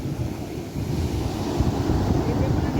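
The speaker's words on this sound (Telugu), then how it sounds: "వారానికి ఒకసారి ఈ సముద్రం ఒడ్డుకు వచ్చి ఈ వాతావరణాన్ని ఆస్వాదిస్తుంటే" Surf breaking on a beach in Kerala, a steady low rumbling wash of waves mixed with wind buffeting the microphone, continuous and fairly loud with no talk.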